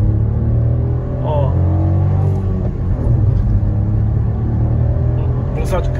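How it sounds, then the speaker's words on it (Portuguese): A 2021 Fiat Argo Drive 1.0 engine hums and rises steadily as the car accelerates on the road, a low continuous drone with tire and road rumble, heard from inside the cabin under someone speaking. "O ronquinho dele do motor, vocês estão ouvindo?"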